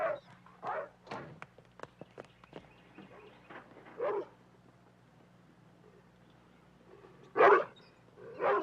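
Several loud Doberman barks in bursts, some deep and gruff, with quieter scuffling and gaps of near silence between them.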